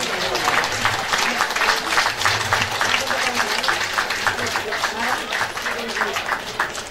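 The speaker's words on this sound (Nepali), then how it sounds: "यो ताली अझै अझै जोरले बढाउनु त" A crowd at a temple gathering in Nepal breaks into sustained, dense applause, with many hands clapping steadily at close range and voices mixed in beneath.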